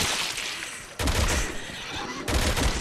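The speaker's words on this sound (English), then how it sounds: "Let's use the assault rifle." Automatic assault-rifle fire in the Resident Evil 6 video game, a dense rattling burst of shots running continuously with sharper surges at the start and near the end, loud and close with no talk.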